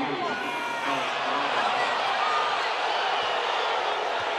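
A basketball crowd at a college game in West Virginia reacts with disapproval to a foul call, a steady loud wash of arena noise that lasts throughout, with an announcer talking over it.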